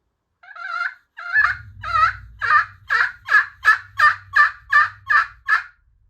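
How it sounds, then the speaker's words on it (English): A friction turkey call yelping in a run of about eleven rising-then-falling notes, getting quicker and louder, played close and alone. "to create that yelp is basically just a backwards J"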